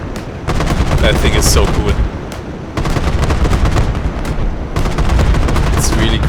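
Rapid automatic cannon fire from a BMP infantry fighting vehicle in a combat video game, rattling in dense bursts with booming impacts throughout, while a voice speaks briefly over it.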